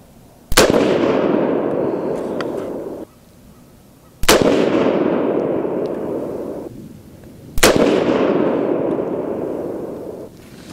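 A custom Grey Ghost AR10 fires handloaded .308 Winchester rounds with 155-grain Lapua bullets and IMR4064 powder: three loud, sharp outdoor shots spaced about three and a half seconds apart, each followed by a long rolling echo.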